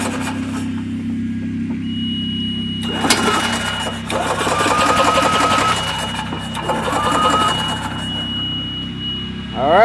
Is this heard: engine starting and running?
yes